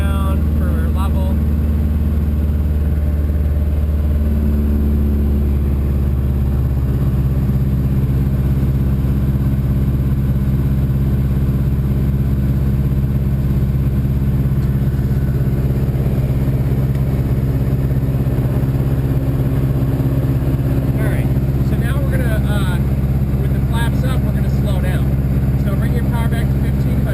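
Small airplane engine at altitude as power is pulled back to 2,000 RPM, a loud steady droning hum whose pitch drops early on and then holds, with a voice talking over it.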